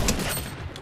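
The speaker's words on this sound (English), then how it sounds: "Shotgun!" A shotgun blast in Fortnite Chapter 5, with a quick burst of sharp reports close up and loud for less than a second.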